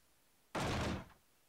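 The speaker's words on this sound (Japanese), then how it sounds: "首をかしげながら僕はドアを開くために手前に引いた。" In the horror adventure game Toshi Densetsu Kaiki Fairu (Hayarigami) 3, a door is pulled and catches partway: a single heavy, loud thud and rattle lasting about half a second, with nothing else heard.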